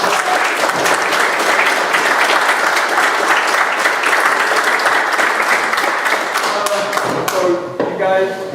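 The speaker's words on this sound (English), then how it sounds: "Let's everybody give a round of applause to the students" A town hall crowd gives students a sustained round of applause, dense and loud clapping that runs for about seven seconds before thinning into a few scattered claps and a voice.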